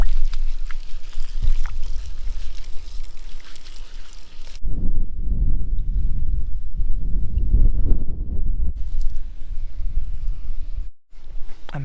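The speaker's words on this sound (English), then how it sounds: "and then we can have an outdoor shower" Outdoor shower running at a camper van parked near a Cornwall beach: steady splashing water with gusty wind noise, loud and close, with a sharp break midway and a brief dropout near the end.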